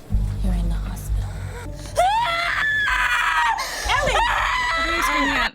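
Anguished screaming and gasping from a person in a dramatic television episode, loud and close, with wails and whimpers rising and falling over a low background, with voices heard alongside.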